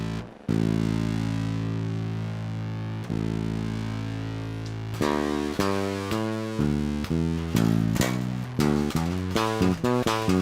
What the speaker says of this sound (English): we just have the top end of the fuzz, and now we bring in some of the guitar